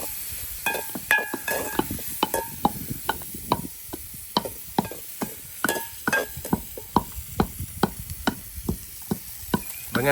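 Onions sautéing in oil in a pan for a home-style country chicken curry, stirred with repeated scraping clicks of a spoon against the pan over a steady soft sizzle, close up and moderately loud, with no voices.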